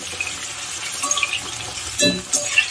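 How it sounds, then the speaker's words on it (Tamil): Eggplant pieces sautéing in a pan for a Tamil-style tamarind curry, a soft steady sizzle with faint scraping stirs and a brief louder clatter near the end. "பாருங்க 5 நிமிஷம் இப்போ நல்லா கத்திரிக்காய் நல்லாவே வதங்கிடுச்சு நம்மளுக்கு"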